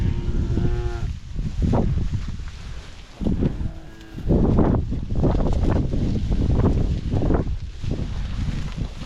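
Red and black cattle mooing in a barn: several loud, close, drawn-out moos from different animals follow one another over steady wind noise on the microphone.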